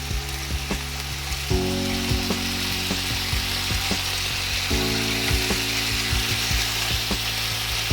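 Chicken sizzles loudly in a hot pan, a constant crackling hiss broken by frequent sharp pops and scraping as the pieces are turned, with a steady low hum running underneath.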